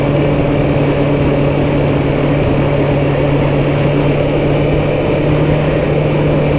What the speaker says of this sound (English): Just feels so much better riding the Ninja 636 on a warmer day.